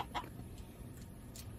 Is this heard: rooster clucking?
yes